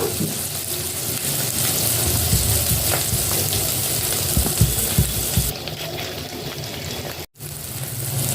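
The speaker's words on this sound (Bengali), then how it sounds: "এটা একটু ভাজা ভাজা হয়ে যাক।" Potatoes seasoned with turmeric and salt fry in a wok, a loud continuous sizzle with occasional stirring knocks, easing slightly partway through before a brief cut in the sound.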